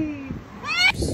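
A chilly hairless cat found outside gives a short, close, rising meow after a moment of a person speaking softly.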